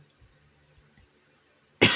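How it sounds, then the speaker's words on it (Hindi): A single loud cough bursts out near the end, close and sharp, after a near-silent stretch with faint low thumps. "खांसी हो गया है"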